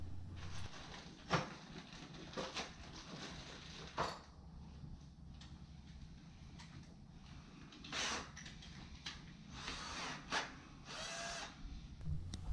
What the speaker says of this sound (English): I'm drilling through the drywall into the stud